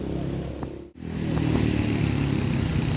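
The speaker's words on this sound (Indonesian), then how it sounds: "Ini unit ALS yang berangkat menuju Pulau Jawa via lintas tengah." An ALS intercity bus with a 1626 engine and air suspension pulls away from a terminal, its engine rumbling and revving steadily nearby after a brief dip, with no voices.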